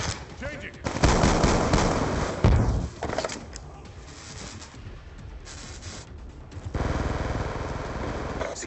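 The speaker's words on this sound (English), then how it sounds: "Throwing grenade! Flash out!" A flashbang grenade goes off during a Call of Duty Black Ops II multiplayer match, a loud sharp blast followed by ringing noise and scattered gunfire, with voices shouting in the background.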